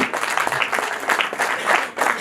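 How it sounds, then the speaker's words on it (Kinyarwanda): A wedding crowd claps in a dense, continuous burst of applause, loud and close, with faint voices mixed in. "Amashyi menshi cyane."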